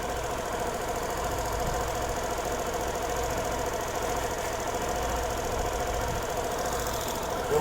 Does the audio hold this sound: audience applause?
no